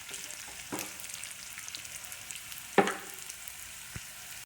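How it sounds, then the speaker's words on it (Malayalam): Onions frying in a pan for a breadfruit curry, a faint steady sizzle with a few soft clicks and a sharper stir or tap partway through, no voices present. "ഉള്ളിയൊക്കെ നന്നായിട്ട് മൂത്തിട്ടുണ്ട്."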